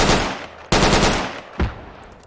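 AR rifle fire in the military video game Project Reality, three loud close bursts of rapid automatic shots, each cut off abruptly, the last one short and followed by a brief fading tail.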